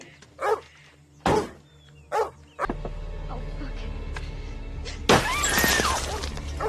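Car window glass smashes in one loud, crashing burst with scattered tinkling debris, after several short dog-like barks or yelps over a low steady hum.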